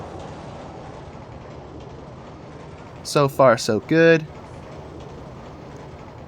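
A long six-car roller coaster train rolling along its track in RollerCoaster Tycoon 2 makes a steady, low, rumbling background drone throughout, while someone speaks briefly in the middle.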